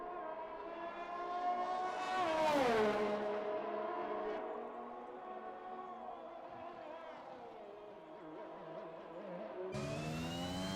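A Red Bull Honda RB-series Formula 1 car in a racing video game, its engine whining high and steady through upshifts and pitch sweeps, close and continuous at a grand prix circuit, with a commentator talking over it.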